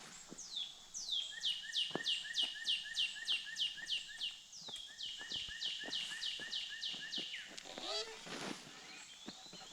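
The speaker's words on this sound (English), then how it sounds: "Listen to that bird. Does anybody know what that is?" A bird sings a rapid series of clear, repeated whistled notes in steady rhythmic phrases, fairly close, followed by a few different chirps.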